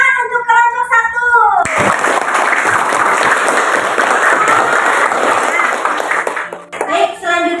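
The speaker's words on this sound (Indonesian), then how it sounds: "tepuk tangan untuk kelompok 1" A classroom of schoolchildren claps for the first group for about five seconds, a loud, dense burst that starts suddenly, with a teacher talking just before and after.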